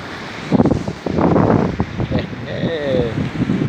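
Wind gusts hard across the microphone at an old dam on the Ottawa River, a rough roaring buffet under excited voices and shouts.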